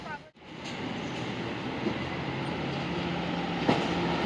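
A Dubai Metro train at Gold Souk station gives a steady, close rumble with rail hiss and faint clatter, holding evenly throughout with one sharp click near the end.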